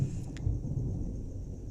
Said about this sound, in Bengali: আকাশে প্রচুর মেঘ ডাকছে, দেখতে শুনতে পাচ্ছ বন্ধুরা?